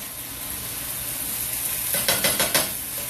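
Sizzling food in a hot frying pan, stirred one last time, with a constant hiss of frying. Near the end a quick run of four or five scraping, clattering utensil strokes against the pan comes through close and clear.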